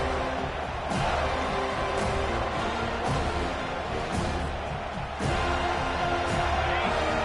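Home stadium crowd in a college football video game roars on third down as the defense gets support, a loud, steady wall of cheering noise that swells slightly throughout.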